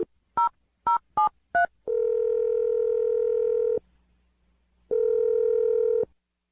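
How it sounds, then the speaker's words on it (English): Telephone keypad dialing: five quick touch-tone beeps in a brisk run, followed by two long, steady ringback tones separated by a pause of silence, clear and close. "I'm going to dial the phone number right now."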